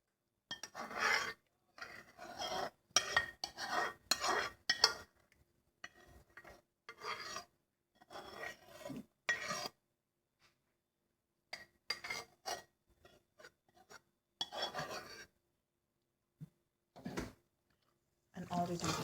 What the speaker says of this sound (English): And all we do is mix it